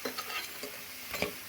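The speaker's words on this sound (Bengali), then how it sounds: "আমি সজনে পাতার পকোড়াগুলো মুচমুচে করে উল্টে পাল্টে ভেজে নিয়েছি" Drumstick-leaf pakoras frying crisp in hot oil, a soft steady sizzle with a few scraping stir-and-turn strokes at irregular moments, close and fairly quiet with no voices.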